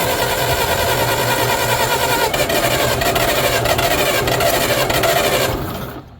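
An old, long-neglected Bobcat engine cranks steadily with a continuous, rough mechanical drone for several seconds, then winds down and stops near the end.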